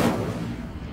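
In the Hogwarts Legacy video game, an Incendio fire spell goes off as a single sharp burst that quickly fades into a rumbling, crackling tail.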